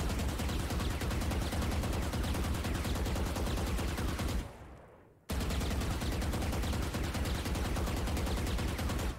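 Sustained automatic gunfire from a rifle in the tactical shooter Valorant, rapid evenly spaced shots that break off briefly midway and then resume at full volume, with no voices.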